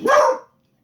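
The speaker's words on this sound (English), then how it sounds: "Sorry, that was my dog. She was barking at my TV." A single sharp dog bark indoors, close and loud, aimed at a television, lasting under half a second before silence.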